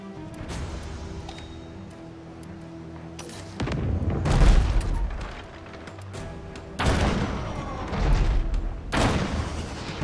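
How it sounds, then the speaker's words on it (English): Ship cannons firing in the naval combat game Abandon Ship, with deep booming volleys that come in rolling bursts separated by quieter stretches and underlying rumble, loud and close with no talking. "Okay, we are firing our guns finally."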